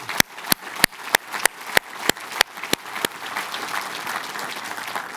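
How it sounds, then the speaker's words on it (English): Audience applause at a medical school event, starting with about ten sharp, evenly spaced single claps that give way to a broader wash of clapping from the crowd. "We'll give them another round of applause."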